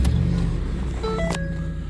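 A 2010 Ford F-150 XLT pickup engine idles loudly and steadily up close after starting, with a brief rise and a few short electronic tones over the rumble.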